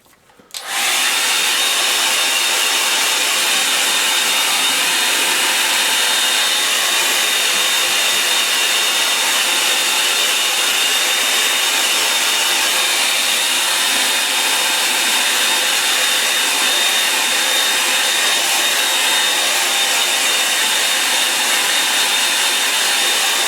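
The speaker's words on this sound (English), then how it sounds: "I'm going to give it a bit of a dry now" A hair dryer blows over a watercolour painting of sand dunes, switching on sharply and then running as a loud, steady whoosh and whine close by, alone for over twenty seconds.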